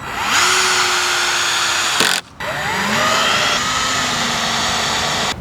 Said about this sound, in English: Let's try screwing them in a few more places and see if we can get them a little bit tighter.